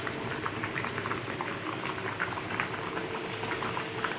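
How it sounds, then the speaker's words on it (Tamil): Pepper kuzhambu boils in a pot that had been covered with a lid, a continuous close bubbling and popping at a steady, lively rhythm with no voices. "மூடி வச்சு நல்லா கொதித்து வந்துடுச்சு."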